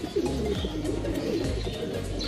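Racing pigeons coo steadily and close by at a midtoss event in Tayug, Pangasinan, a dense layered murmur of low throaty calls filling the whole stretch with a few brighter chirps.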